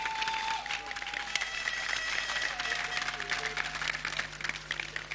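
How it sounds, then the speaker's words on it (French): Steady applause from a large audience at a military war college graduation ceremony, honouring the top graduate of the class; continuous dense clapping fills the hall with a faint voice underneath. "On peut l'applaudir."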